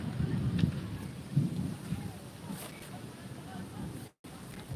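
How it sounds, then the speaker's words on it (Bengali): A violent storm roars with gusting wind and low rumbling, rain pattering steadily throughout, with a brief dropout near the end. "ভয়ঙ্কর ঝড় উঠেছে খুব ভয়ঙ্কর ঝড় উঠছে"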